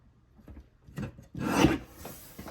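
A strip of scrapbook paper is trimmed with a short rasping slide and scrape, a few soft close rubbing strokes peaking in one longer cut.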